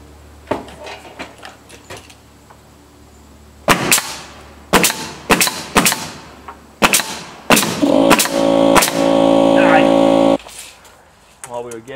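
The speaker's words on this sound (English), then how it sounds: "We need to stay in place and get our nail gun." Pneumatic nail gun firing while fastening siding boards on an off-grid outdoor kitchen, a string of sharp, loud cracks in uneven rhythm followed by a sustained hiss, with people talking nearby.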